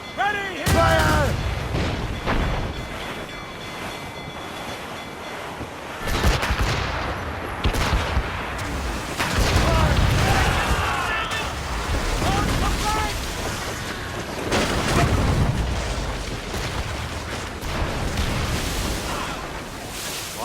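Ship cannons firing in Assassin's Creed Rogue, several heavy booming blasts spread across the scene with rumbling echoes, mixed with shouted commands and other voices.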